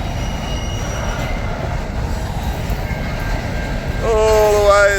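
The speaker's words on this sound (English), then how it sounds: "All the way as far as we can see is bloody freight train." Four SCT locomotives haul a long Perth to Melbourne freight train through the Tailem Bend loop, wagons rumbling steadily nearby, with wheels squealing sharply and rising near the end.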